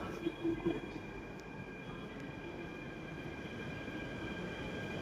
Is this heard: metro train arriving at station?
yes